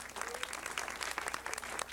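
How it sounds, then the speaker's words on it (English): Audience applause at a regular city council meeting honoring a choreographer, a dense steady patter of many hands clapping at moderate distance for the whole stretch, with no voices standing out. "Darnella, give her a round of applause."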